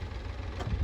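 Diesel tractor engine idling on a farm track, a steady low rumble that grows slightly louder toward the end, with no talk over it.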